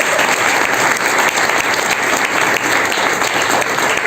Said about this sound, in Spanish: yo les pido que le volvamos a brindar un fuerte aplauso